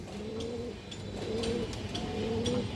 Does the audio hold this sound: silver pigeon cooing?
yes